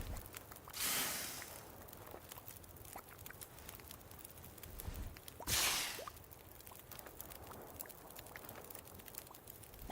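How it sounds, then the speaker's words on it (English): Waves crashing against the shore in the video game The Long Dark, two broad whooshing surges rising and falling a few seconds apart over quiet windy ambience, faint and distant. "maybe it's the sound of the waves crashing against the shore"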